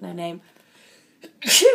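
A single sharp sneeze bursts out near the end, loud and close, after a stretch of indoor talk and quiet.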